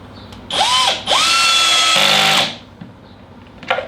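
A cordless drill drives a screw into a wooden drawer workpiece, giving two loud, close whining bursts with a ramping motor pitch, the second ending in a strained, lower grind before stopping.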